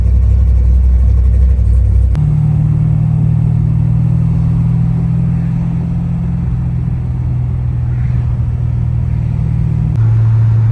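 LS3-swapped FRS drift car cruising in sixth gear on a flyover, a loud, steady low engine drone whose pitch shifts slightly at two points, heard alone.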